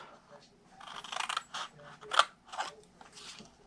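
Scissors cutting paper to make a gift pouch, with several short close snips and scrapes in an irregular rhythm against a quiet background.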